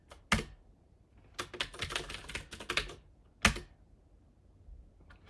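Bursts of typing on a computer keyboard, with a sharp isolated keystroke, then a quick run of clicking keys and another single loud tap, close and clear with no talk.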